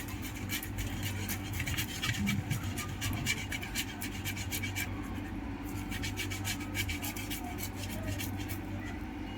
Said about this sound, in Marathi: सर्वप्रथम बटाटा किसून घेऊया।